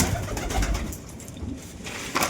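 Three young pigeon chicks coo softly and repeatedly at close range, low murmuring calls over a quiet background.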